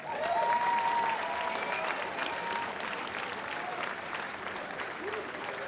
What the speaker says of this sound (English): Ladies and gentlemen, both these warriors left it all in the ring. Let's have a round of applause.